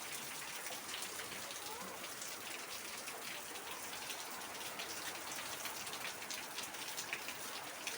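Heavy rain pours in a dense, constant hiss, an even wash of many drops striking surfaces, moderately quiet and unbroken for the whole stretch, with no voices.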